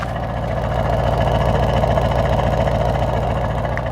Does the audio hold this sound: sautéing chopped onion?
no